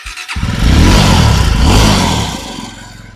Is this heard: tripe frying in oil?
no